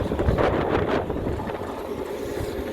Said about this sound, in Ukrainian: Вітер задуває.